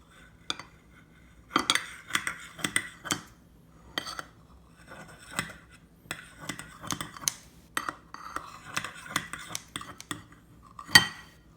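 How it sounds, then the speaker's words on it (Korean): Metal kitchen scissors snip through a baked pizza bread topped with mayonnaise in a hot dish, a string of sharp clicks and scraping clinks in irregular bursts, close and fairly loud. "이렇게 가위로 잘라서"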